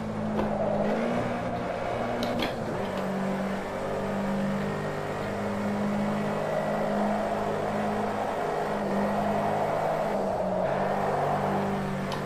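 A Honda Civic's engine revs hard while driving on a track, a loud sustained drone that rises and falls through the gears with no voices over it.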